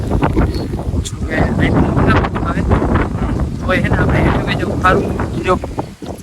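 Loud, blustery wind buffets the microphone nonstop, a deep rumbling roar, while a voice speaks through it.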